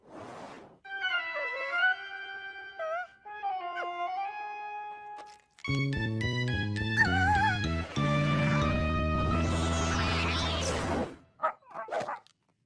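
A dog yips and whines in rising, strained bursts, then breaks into louder barking and howls, close and sustained, ending with a few short yelps.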